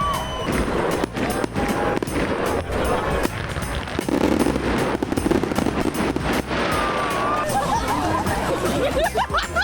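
Fireworks burst on Christmas Eve at Copper Mountain, Colorado, a rapid series of loud cracks and pops across a lively outdoor crowd with chatter and murmuring throughout.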